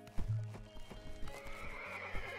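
A horse in the video game Animal Shelter Simulator clip-clops with a few close hoof knocks, then lets out a drawn-out whinny, all heard clearly without talk.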